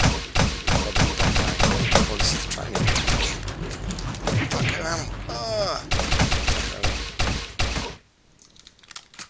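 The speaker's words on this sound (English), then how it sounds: "Nail gun's like a sort of fast shotgun, which is cool." Rapid nail gun fire in the sci-fi shooter Teleglitch, a dense run of sharp, quick thuds like a fast shotgun, loud and close, with a voice talking alongside before the shots cut off near the end.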